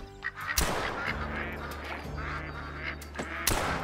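Ducks, drakes and hens, quack and honk near by as a flock is flushed during a duck hunt in the game Call of the Wild, with sharp loud bursts at the start and end.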